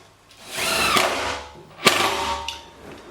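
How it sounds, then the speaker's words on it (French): A power drill drives screws through cabinet fronts from the inside in two short bursts of whirring motor, each ending in a sharp click, with a faint tap after them. "je vais simplement visser mes façades par l'intérieur"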